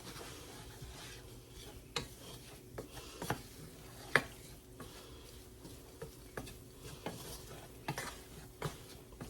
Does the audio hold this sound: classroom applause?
no